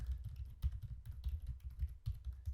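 Computer keyboard typing while entering a print statement in Python in the PyCharm editor, with a steady run of close, soft key clicks and no talking.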